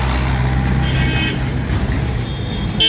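Jammed traffic at a busy town chowk on a crowded festival day: a steady, loud rumble of car, truck and bus engines fills the scene, with a brief horn toot rising above the idling mass.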